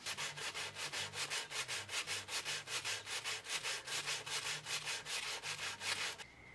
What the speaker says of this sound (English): This is just a lot more of me sanding the body, first with coarse sandpaper to remove any burn marks left by the routing